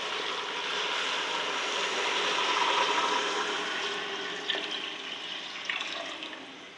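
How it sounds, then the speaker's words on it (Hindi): Water poured into a pot of browned goat trotters for paya, a continuous rushing splash that swells and then eases off, with a couple of small knocks near the end. "अभी मैं डालती हूँ पानी।"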